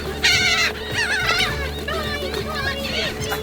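Seagulls being fed chips give several sharp, squawking calls close by, mixed with people talking and reacting.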